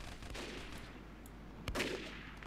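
Sniper fire in the online shooter MicroVolts, a faint muffled game-audio crack near the middle followed by a short burst, set against a steady low hiss of background game noise.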